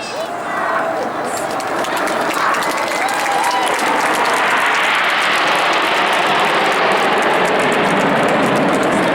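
Red Arrows jets flying in formation over an airshow crowd at Scarborough Armed Forces Day, tracing a Lancaster bomber shape; a broad, steady roar of jet engines fills the whole stretch while a commentator talks over it.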